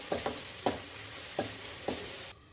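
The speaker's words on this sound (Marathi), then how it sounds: "आता मसाला चांगला परतू द्यायचा" Wet ground masala fries in a pan for an egg curry, under a low steady sizzle. A spoon scrapes the pan about five times at uneven intervals, and the sound cuts off abruptly at the end.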